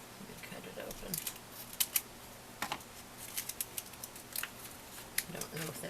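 Scissors cut open the packaging of a craft subscription box in a series of faint, crisp snips and clicks, with a few sharper cuts spread across the stretch.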